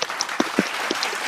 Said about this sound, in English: let's give her a virtual round of applause